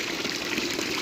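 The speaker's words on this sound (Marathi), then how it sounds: "तर हापशातून पाणी बाहेर पडतं मित्रांनो" Water gushing steadily out of a village hand pump, a continuous close splashing flow with no talk.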